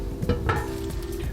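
A metal lid set onto a cooking pot of Belgian stew on the stove, one or two short close clinks over a faint background sizzle.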